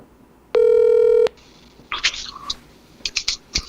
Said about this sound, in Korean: 전화를 왜 안 받으시지?